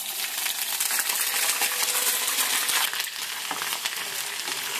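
Ginger garlic paste fries in well-heated oil for a chicken pickle, giving a dense, loud, continuous crackling sizzle that stays steady from start to finish, with no voices.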